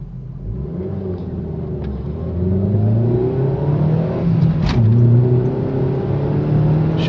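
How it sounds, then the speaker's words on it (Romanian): A car pulls away in first gear, its engine note climbing steadily from a low idle into a loud, rising rev with rumbling undertones, heard close from inside the cabin with a window open, then easing slightly near the end. "Și mașina accelerează destul de bine,"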